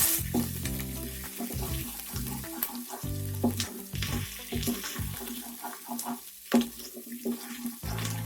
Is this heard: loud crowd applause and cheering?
no